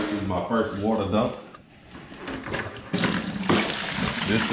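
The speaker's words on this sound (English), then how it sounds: "First water dump." Dirty water being dumped from a carpet extractor after cleaning an Acura Legend interior, a short splashing pour in two bursts, with a person talking near the start.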